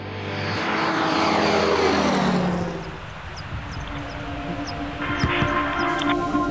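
A light propeller plane built for record-setting round-the-world flight drones past, loud and close at first with a sweeping pitch shift, then recedes into a fainter steady hum with no voices.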